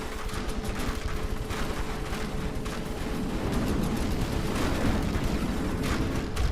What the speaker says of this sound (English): Another broadside. I think some of those hit that time